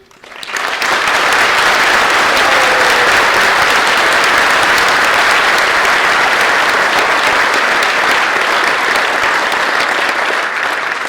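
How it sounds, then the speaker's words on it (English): Sustained audience applause fills a room at a technical center completion ceremony, starting abruptly and holding steady and loud for about ten seconds with no talk over it. "I just want to have a little round of applause for these women"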